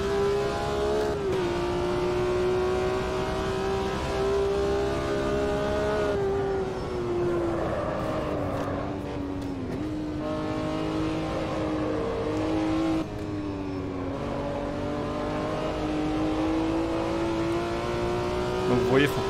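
A BMW M1 Procar in a racing simulator game drifts with a steady, droning engine note that rises and dips as the car slides, with tire scrubbing beneath it, under someone talking.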